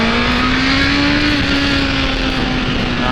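A 2024 Honda CBR650R motorcycle accelerates smoothly, its engine a close, loud, continuous drone with a steady tone that rises slightly in pitch, heard alone without talk.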